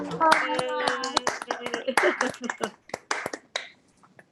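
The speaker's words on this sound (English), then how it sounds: "let's applaud you" Small group applause at an online community builder awards presentation, scattered claps of a few people, sharp and close, thinning out toward the end while voices speak over them.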